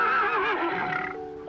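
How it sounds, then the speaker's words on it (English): A horse whinnies loudly and close by in one long, wavering neigh that trails off, heard alone without any talking. "My horse didn't know me at all."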